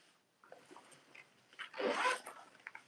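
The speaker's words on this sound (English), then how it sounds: "Open your zipper pocket." Zipper on a tote bag pocket being drawn open: light fiddling with the fabric, then a quick rasping zip, close and clear, with a few small rustles after.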